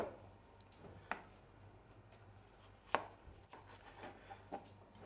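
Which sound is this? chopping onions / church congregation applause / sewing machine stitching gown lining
chopping onions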